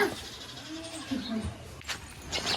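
A goat bleats in short, wavering calls close by at a temple shrine, with people talking over and around it.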